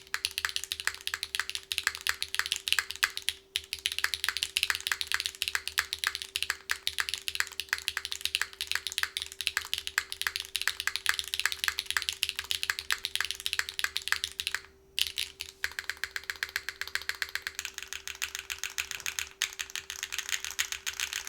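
Rapid, close keystrokes patter on a Kei v2 60% keyboard fitted with a copper plate and 53-gram HMX Yogurt switches, dense and even, with a short gap near the end before the typing turns slightly lighter and brighter.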